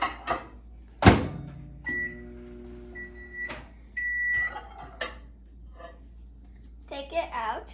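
A microwave oven heating a block of Philadelphia cream cheese: a door thunk, then a steady hum with high beeps, quiet and close, with brief talk near the end.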